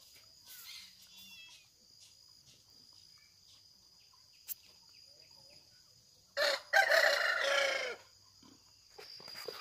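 A mixed-breed rooster crows loudly and close by, a single drawn-out call near the end, with insects chirping faintly in the background beforehand.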